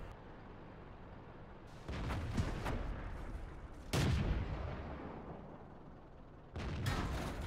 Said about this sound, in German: Da war der nächste Schuss, der gesessen hat.